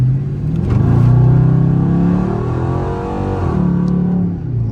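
Dodge Charger with a loud exhaust revving in evening traffic, a deep close rumble that swells, dips and rises again with no talk.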